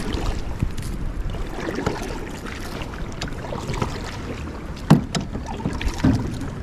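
Wind rushes steadily beside a mountain lake in North Carolina, with low buffeting against the microphone, along with faint water sounds and a couple of brief knocks.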